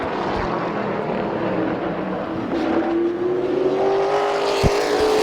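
Race cars roaring around the oval at Midvale Speedway, a loud continuous engine drone with one car's pitch rising as it passes, and a sharp thump near the end, no voices.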